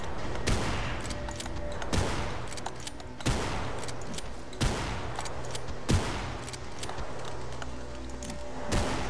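Gunfire in the horror video game Afraid of Monsters, repeated sharp shots at roughly one-second intervals over a steady humming game background, fairly loud and evenly spaced.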